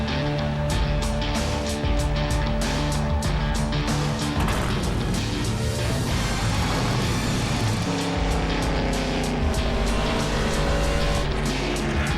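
A fast car races around a track, its engine roaring loud and continuous with shifting pitch as it accelerates and corners, tires squealing and skidding at times, with no talking.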